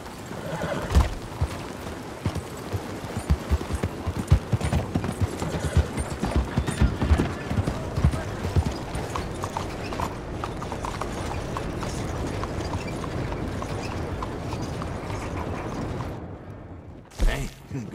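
Horse hooves clip-clop steadily up close in Red Dead Redemption II, with a whinny and some creaking tack mixed in, continuing for most of the stretch before a brief pause near the end.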